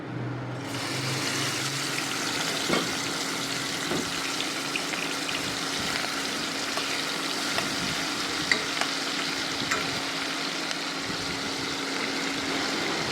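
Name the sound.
prawns frying in hot oil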